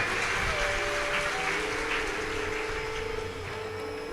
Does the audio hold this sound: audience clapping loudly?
yes